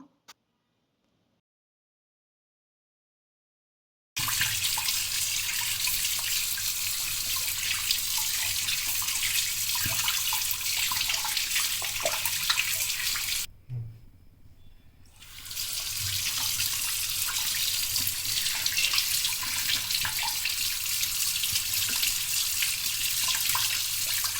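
Tap water runs steadily and loudly over fish being washed in a kitchen sink, with a brief break partway through and silence at the start.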